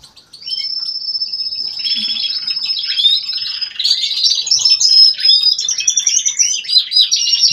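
A young smooth-headed cage bird sings high, continuous twittering song throughout, close and fairly loud, with warbling phrases growing busier toward the end and no voices.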